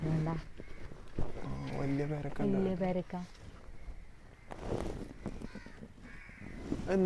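A crow caws repeatedly outdoors while people talk nearby, its harsh calls mixing in with the voices.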